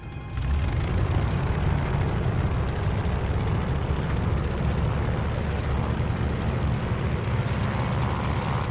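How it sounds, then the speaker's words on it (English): A fighter plane in Call of Duty: Vanguard, set at the Battle of Midway, takes off at full power, giving a steady, loud, broadband engine roar that stays constant and dense throughout. "Sugar 17, this is Tower. You're cleared for takeoff. Okay, let's get her in the air."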